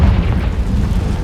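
A Confringo blasting spell explodes in Hogwarts Legacy, a deep, loud rumbling boom that fills the whole brief moment.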